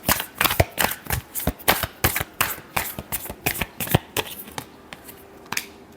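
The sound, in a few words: tarot cards being shuffled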